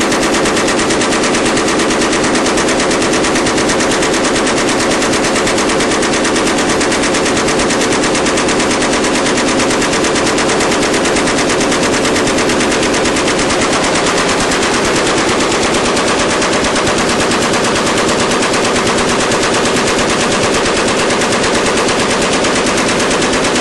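Sustained rapid automatic gunfire at about 850 rounds per minute, a dense unbroken stream of shots that runs loud and steady from start to finish with no voices.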